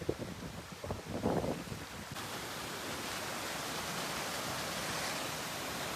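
A waterfall at Chanderi Fort pours with a steady broadband rush, a heavy flow of water heard from close by, with some brief handling bumps at the start.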